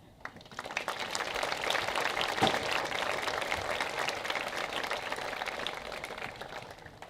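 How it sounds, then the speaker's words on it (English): A commencement ceremony crowd for a high school graduating class gives sustained applause for faculty members, a steady, even wash of many hands clapping that swells quickly and holds for several seconds. "Please give a round of applause to these wonderful faculty members here for their effort that led us here today"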